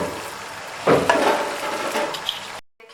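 Minced meat and bitter gourd stirred together in a pan for qeema karela, a steady close sizzle and scrape of the mixture being turned, ending in a brief silence.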